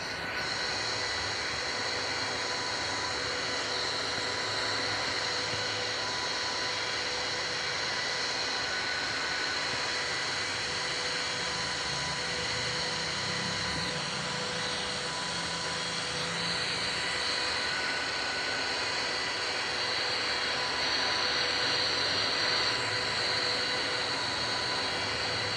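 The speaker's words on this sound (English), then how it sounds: "my plane is on the runway and I'm all set for takeoff" A passenger airliner taxis on the runway at London Heathrow before takeoff, heard from inside the cabin as a steady engine whine and hum with a constant low rumble and no speech.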